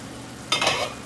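Chicken keema stuffing sizzles in a pan, a short bright burst of frying crackle as it is stirred, rising suddenly out of quiet and fading within a second.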